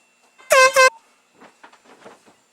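One loud, close air horn blast of about half a second, set off as a prank, followed by faint indistinct voices in the background.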